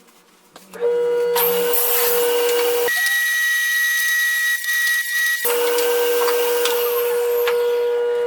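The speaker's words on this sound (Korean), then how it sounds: "이렇게 200mm 지지대를 절단합니다." A table saw rips through a 200mm wooden shelf support, a loud steady whine rising as the blade bites the wood, with a deep cutting roar for a few seconds before the idle blade sings again.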